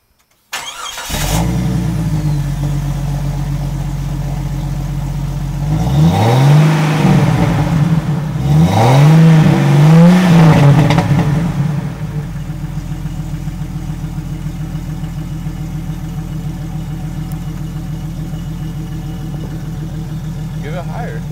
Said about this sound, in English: The Cherry Bomb Pro muffler. See how it sounds.